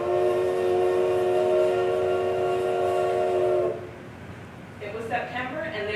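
A train horn blares in a long, steady, loud tone for several seconds, then cuts off as rumbling continues and a voice begins talking.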